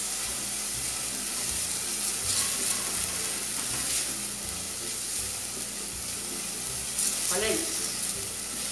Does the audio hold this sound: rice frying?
yes